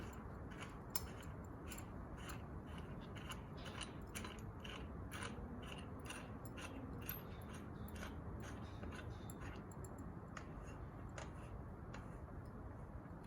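A steering pulley is threaded onto an engine and tightened during a Holley front accessories install, giving a steady run of small metallic ticks and ratcheting clicks over a constant background hum.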